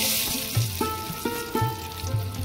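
Fish sizzles and spits steadily in hot oil in a wok, with a continuous frying hiss and periodic low pops and bubbling bursts throughout.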